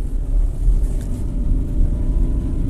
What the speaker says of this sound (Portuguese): O motorzinho gritou.